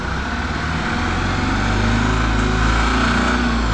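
A Mahindra Supro idles steadily after being started, its small engine giving an even, continuous hum with a slight buzzing rattle, close and fairly loud throughout.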